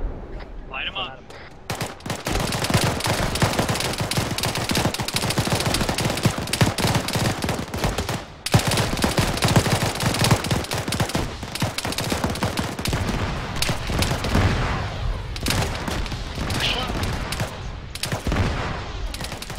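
Heavy sustained gunfire from a convoy ambush in the Arma 3 military simulation game, dense overlapping rifle and machine-gun bursts with booming impacts, loud and continuous, with voices shouting at times.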